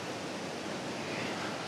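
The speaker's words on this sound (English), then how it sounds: "We've got the weir here, and water would have been redirected along this part here" Steady broadband rush of water pouring over a weir at an overgrown, abandoned mill pond in Slaithwaite, continuous and fairly even without any voices.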